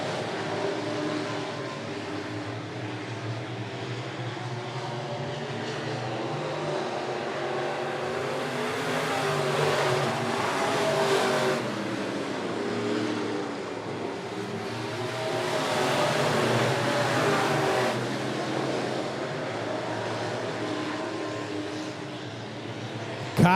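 Midwest modified race cars roar around the Monett Motor Speedway oval in a late-laps feature, a loud continuous engine drone swelling and fading as the pack passes, with no pause across the whole stretch.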